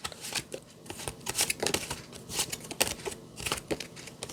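Tarot cards being handled up close, a quick flurry of soft papery flicks and slaps over a few seconds, quiet and with no talking.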